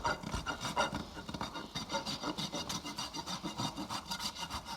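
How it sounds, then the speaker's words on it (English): Hand file rasping a horse's front hoof to even it and bevel the toe, a steady rhythmic back-and-forth scraping of about a dozen strokes, close and loud with no talk. "I'm going to take a little bit off with my file"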